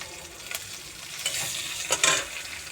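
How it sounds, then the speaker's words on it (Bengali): Bottle gourd with three green chillies cooking in a pan: steady sizzling and frying with a few stirring scrapes and clinks, close and alone without talk. "আর এই লাউটা রান্না হচ্ছে।"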